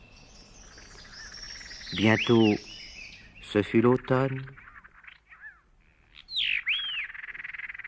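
Small birds chirp and whistle in a forest as a storybook sound effect, with bright rising and falling calls scattered between the phrases of someone narrating in French.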